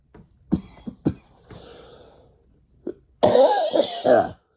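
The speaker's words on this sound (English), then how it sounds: "I don't know why I'm coughing." A few sharp coughs and throat-clearing bursts, close by, ending in a louder rough fit of coughing.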